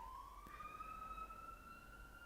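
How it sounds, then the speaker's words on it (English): An emergency vehicle siren wails outside at night, faint and distant, its steady rising tone carrying alone over a low background hum. "Really enjoying Sirens at 2:20 in the morning"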